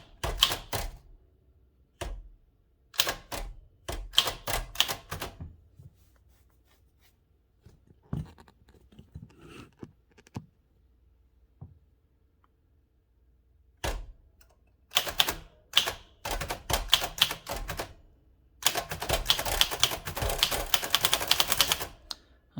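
Typing on a 1947-1949 Adler Favorit 2 thrust-action typewriter: close, crisp keystrokes in bursts, some spaced single strikes, then a long rapid run of clacking near the end.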